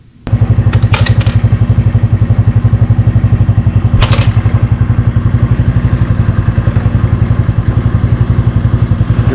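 A GY6 scooter engine idles steadily with its battery disconnected, a close, loud, even mechanical chug with a few brief metallic clicks early on and no talking.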